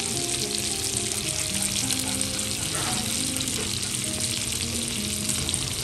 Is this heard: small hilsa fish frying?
yes